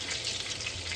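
Chicken frying in a pan gives off a steady, close hiss and sizzle for a brief moment. The sound is constant, with no talking over it.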